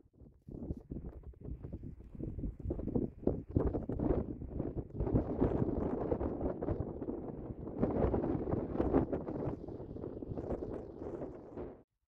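Strong autumn fell wind in Finnish Lapland buffeting the microphone in loud, rumbling gusts that rise and fall throughout.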